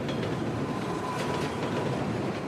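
A New York subway train crosses a suspension bridge, a steady, dense rumble and rattle of rail cars with faint squealing, close and continuous throughout, with no talk.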